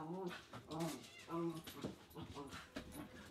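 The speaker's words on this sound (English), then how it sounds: "leave my cat alone" A house cat meows several times in short drawn-out calls, heard close, with a person talking at times around the cries.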